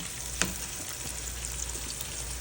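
Chopped onion, garlic, and dried and green chilies fry in hot oil with a steady, close sizzle. A single spoon clink against the pan stands out early, and no one speaks.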